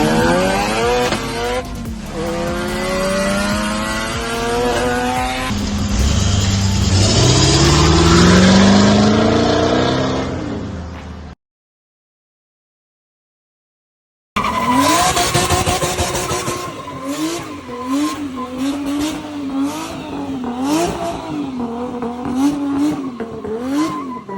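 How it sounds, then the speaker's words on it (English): Cars drift at a Friday night drift event, engines revving hard and rising in pitch as tyres squeal and skid loudly. A brief silence follows, then a further run of squealing tyres and wavering engine notes. "we didn't do skids like this"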